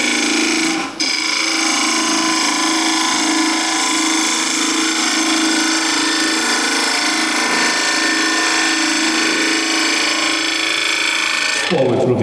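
Wood lathe spinning at about 1614 RPM while a ball gouge cuts the turning blank, a steady close scraping whir with a tonal hum, briefly interrupted near the start and shifting at the end.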